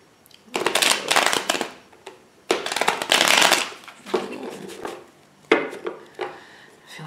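Cards are shuffled in several bursts of riffling and rustling, each a second or so long, with short pauses between.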